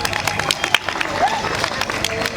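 Crowd applause for a panel at a Kenyan women-in-tech event (WETEC), dense steady clapping from a large audience filling the whole stretch, with some babble mixed in.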